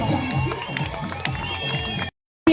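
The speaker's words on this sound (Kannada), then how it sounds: "ಜೋರಾದ ಚಪ್ಪಾಳೆಯೊಂದಿಗೆ" A village crowd applauds a first-prize winner at a Babasaheb Ambedkar event in Gende Hosahalli, Srirangapatna taluk, Mandya district. Dense clapping and crowd noise run under a loudspeaker voice, then cut off briefly before returning.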